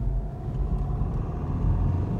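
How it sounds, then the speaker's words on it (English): BMW X2 SUV (2019) engine pulling while driving, a steady close low rumble of engine and road noise throughout with no talk. "And the engine pulls as well"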